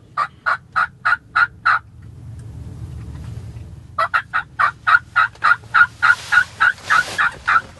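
A wild turkey gobbler in Indiana called in during a hunt, giving loud, close, rapid runs of rhythmic gobbling notes, a first burst, a brief pause, then a longer steady series.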